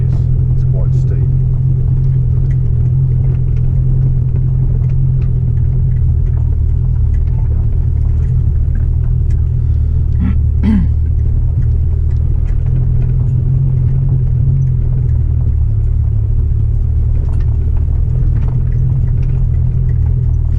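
A Suzuki Jimny crawls up steep sandstone rock steps, its engine a low, steady rumble close by with occasional knocks and scrapes, while people talk over it.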